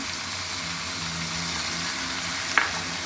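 Ginger-garlic paste with ground coriander, chili and turmeric frying in a pan gives a low, even sizzle throughout, with one sharp clink near the end and no one talking.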